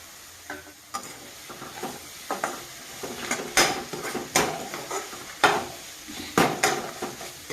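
Mango pulihora ingredients fry in oil in a pan, with a soft steady sizzle broken by rhythmic stirring scrapes and utensil knocks against the metal about once a second.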